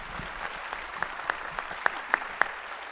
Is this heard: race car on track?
no